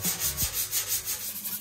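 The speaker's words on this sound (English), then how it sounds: "now I'm going through with the sanding block" Rhythmic back-and-forth rasping of a sanding block on wood, steady strokes about three per second, close up and alone.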